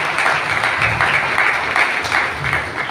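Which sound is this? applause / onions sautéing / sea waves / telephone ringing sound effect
applause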